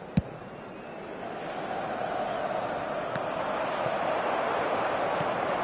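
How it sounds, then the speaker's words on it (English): A stadium crowd in an eFootball match sends up a broad, steady roar that swells slightly over several seconds, with a few faint thumps above it and no clear talk. "it certainly got the crowd going"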